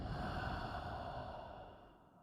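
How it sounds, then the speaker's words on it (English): A long, steady deep exhale through the mouth during seated yoga breathing, breathy and close, slowly fading over about two seconds. "a deep breath out."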